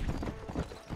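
Quick, close hoofbeats of a war horse in the video game Red Dead Redemption, in a rapid clip-clop rhythm, loud and thudding, as the horse moves along briskly.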